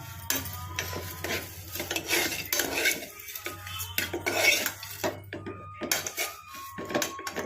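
Vermicelli (semiya) frying in a pan for payasam, with repeated metallic scraping and clinking of a utensil against the cookware in uneven strokes, close and fairly loud over a low steady background hum, with no talking.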